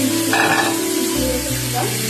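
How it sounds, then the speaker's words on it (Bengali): Polao rice frying in ghee and white oil with whole garam masala and bay leaf, a loud, steady sizzle with scraping stirring strokes close by and no voices. "গরম মশলা তেজপাতাটা ঘি আর সাদা তেলে নেড়ে নিয়ে পোলাওয়ের চালটা দিয়ে দিলাম"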